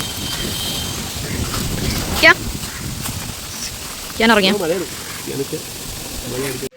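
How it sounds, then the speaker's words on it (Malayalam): Steady rushing wind and rain noise fills the scene, with a few brief voices and chirpy sounds rising above it now and then. "നല്ല മഴയും വരുന്നുണ്ട് കേട്ടോ."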